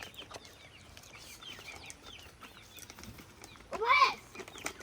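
Chickens cluck around a yard at feeding time, with scattered soft calls throughout and one louder, nearer squawk near the end, beneath background voices.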